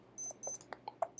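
An alarm beeps during a live coding stream: two paired electronic beep bursts followed by a few softer clicks and taps, fairly close and clear, with nobody speaking.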